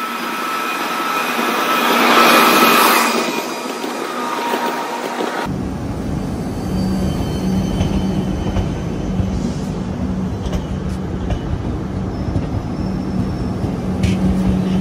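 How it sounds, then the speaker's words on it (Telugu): A train runs at a railway station at night with a sustained engine and rolling rumble. A steady mechanical drone follows a louder, higher whine at the start, and no one speaks. "ఇప్పుడు ట్రైన్ వస్తుంది, ఆ ట్రైన్ కూడా ఒకసారి మీకు చూపిస్తాను"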